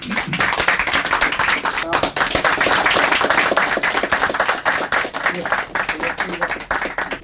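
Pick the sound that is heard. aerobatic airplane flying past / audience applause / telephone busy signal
audience applause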